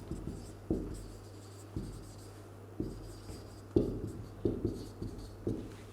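Pen writing on paper during a maths lesson, a series of soft scratchy strokes with sharp taps at the start of each stroke, close and quiet, with no talk.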